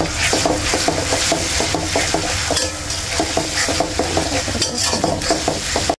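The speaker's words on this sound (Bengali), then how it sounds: "এগুলো হচ্ছে পেঁয়াজের সাথে হালকা একটু ভাজা দিয়ে নেব" Fish eggs frying with onion and ginger-garlic paste in a pan, a steady loud sizzle broken by repeated scraping stirs of a spoon against the pan, with no voices.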